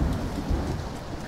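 Rain and thunder in the PUBG video game sound as a steady hiss of falling rain under low, rolling rumbles, continuous and moderately loud with no voices.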